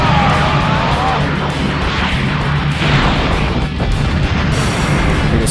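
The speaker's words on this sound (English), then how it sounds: "Big explosions." Big explosions from a Dragon Ball Z video game, loud rumbling bursts and crashes that run one into another across the whole stretch with no pause.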